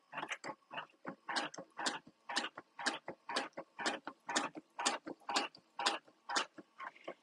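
A computerized quilting machine runs its basting function, with a steady train of evenly spaced mechanical clicks and thumps, about two per second, close and moderately loud with no talking.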